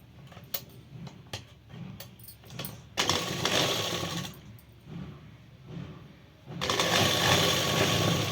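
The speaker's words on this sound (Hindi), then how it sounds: "अब मैं इसको इस तरीके से यहाँ से फोल्ड करके इस पे सिलाई दूंगी।" A sewing machine stitches a folded trouser pocket in bursts, with short runs and pauses, a few sharp ticks, and a longer steady run near the end, close and moderately quiet.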